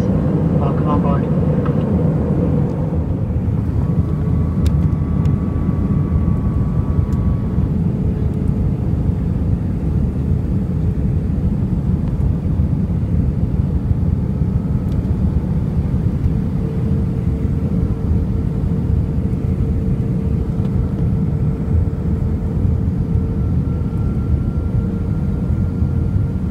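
Inside an Airbus A319 cabin on a flight from Des Moines to Denver, a constant low engine and air roar fills the whole stretch, with faint tonal hums and quiet voices beneath it.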